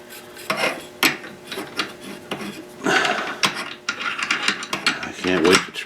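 A tool turns the front sight of an SKS rifle with ratcheting, grinding metal clicks and scrapes, close and fairly loud, coming in irregular bursts throughout.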